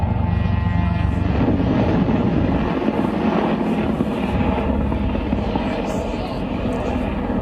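An Apache military helicopter, a loud continuous rotor and engine roar that holds steady throughout with a low thumping rumble and wind buffeting on the microphone.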